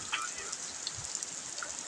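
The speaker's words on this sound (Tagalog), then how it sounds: "Lakas na lakas ang ulan dito sa amin." Heavy typhoon rain pours in a steady, dense hiss, heard from a second floor, with scattered drops and splashes standing out against the constant downpour.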